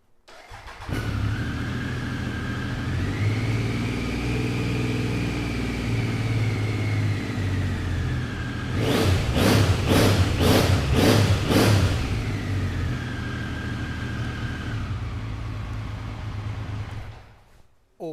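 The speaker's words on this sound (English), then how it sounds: "So these 3-cylinder 900s really do sound fantastic. So let's fire this one up and give it a listen." A Triumph Adventurer 900 three-cylinder motorcycle idles steadily up close, gives a short burst of quick throttle blips partway through, then settles back to idle before cutting off.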